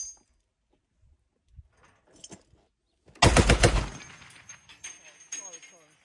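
.50 and .30 caliber machine guns on a Texas range fire a loud, close rapid burst lasting under a second, then scattered single shots and short bursts follow, with faint voices between.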